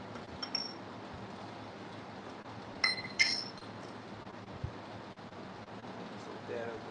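Glass items clink a few times while being handled during a picking session, brief faint chinks over steady background noise.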